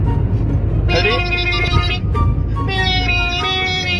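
A car horn sounds in two sustained honks with a short gap between, heard over a steady traffic rumble on a bypass road and continuous talking.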